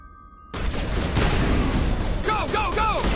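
Loud, sustained gunfire from the video game Mass Effect erupts after a brief quiet moment, dense bursts of shots continuing throughout, with synthetic warbling tones layered over the later part of the firefight.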